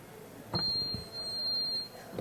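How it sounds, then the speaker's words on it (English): Quiz buzzer at a business quiz event, a single sustained electronic beep lasting over a second, heard over faint room noise and brief thumps. "Hands-on buzzer."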